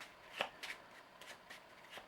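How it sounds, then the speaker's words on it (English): Playing cards for the Marvel Legendary deck-building board game are shuffled by hand, a run of quick riffling bursts and soft card slaps, close and quiet with no talk. "Shuffling."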